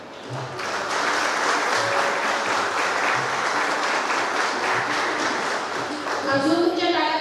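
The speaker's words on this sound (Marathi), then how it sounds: "अजून तुमच्या टाळ्या वाजल्या पाहिजे माहितीये" An audience applauds at a journalism award ceremony in Ratnagiri. Dense, sustained clapping carries on for most of the stretch and tapers off as a voice begins speaking at the close.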